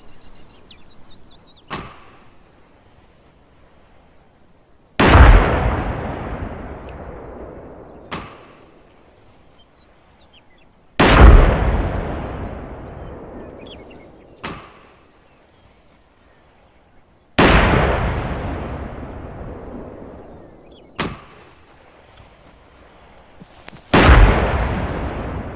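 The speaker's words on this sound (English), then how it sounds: "So what I'm going to do is launch some rockets at Sector 3" Rockets launch with sharp cracks in Arma 3, and each one ends in a loud, booming explosion that rolls off slowly. The launches and blasts alternate at regular intervals, about four big explosions in all.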